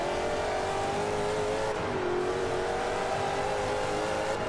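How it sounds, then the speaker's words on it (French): A Corvette engine in Forza Motorsport 5 whistles and drones steadily while accelerating, its pitch dipping briefly and then climbing again, loud and continuous throughout. "je sais pas si vous entendez siffler le moteur"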